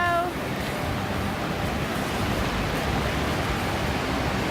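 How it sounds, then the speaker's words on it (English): Ocean waves wash onto a New Zealand beach in a continuous, broad hiss of surf mixed with some wind. It is steady and moderately loud, with no voices. "He's in the waves."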